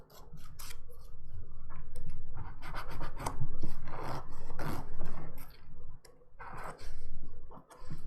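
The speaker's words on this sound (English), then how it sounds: "so I'm just gonna sharpen the shape up a little bit" A nail file rasps against fingernails, shaping and sharpening them during a French ombre dip powder manicure, in quick close strokes that come in bursts with short pauses.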